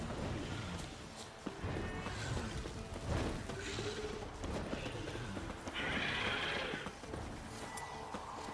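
A horse in The Witcher 3: Wild Hunt whinnies loudly over steady hoof clip-clop and game ambience, with a bright neigh burst midway through, and no talking.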